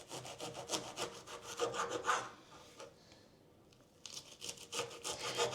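Knife sawing through an artichoke to quarter it, close rasping strokes in a steady rhythm that pause briefly halfway and then pick up again, fairly quiet and without speech.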